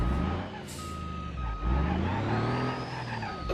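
Truck moving after a head-on crash test, with a steady engine rumble, hissing air brakes and a reversing beep, loud and close throughout.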